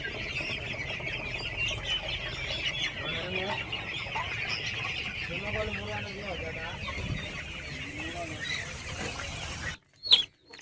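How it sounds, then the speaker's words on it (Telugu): Chickens of several different breeds cluck steadily in a village yard, a dense overlapping chorus with occasional louder calls, ending in a brief sharp squawk after a short gap. "ఇక్కడ వేర్వేరు జాతుల కోళ్ళు ఉన్నాయి చూడండి."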